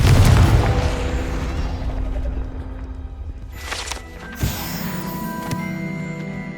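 A Confringo blast spell explodes in the Hogwarts Legacy video game, a loud low boom at the start that decays into a rumbling tail, followed by softer game sounds and a sharp pop.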